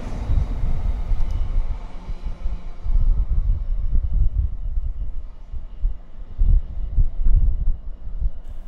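A heavy Class 69 diesel locomotive, converted from a Class 56, rumbles past at Eaglescliffe with a deep, steady engine drone that swells and fades, with no voices.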